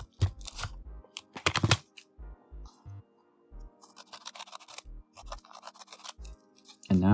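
Scissors cut through five folded sheets of origami paper in a string of short, crisp snips, some quick clusters and some single cuts, close and clear against a quiet background.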